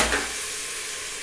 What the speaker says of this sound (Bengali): এগুলো মিশিয়ে নিচ্ছি ভালো করে